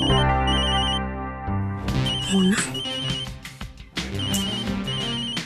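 A mobile phone ringtone plays a repeating electronic melody, loud and close, running for several seconds.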